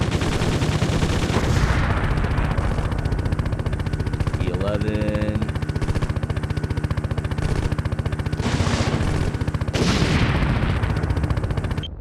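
Rapid, sustained bursts of helicopter cannon fire from the video game Gunship rattle loud and continuous through the whole stretch, with someone talking over the shooting.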